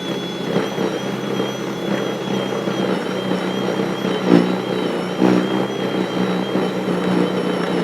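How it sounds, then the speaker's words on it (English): A Litheli U20 40V battery-powered snow blower runs on grass with a steady electric motor whine and fan hum, broken by a few louder rustling thumps as material passes through. "So let's see how this thing works."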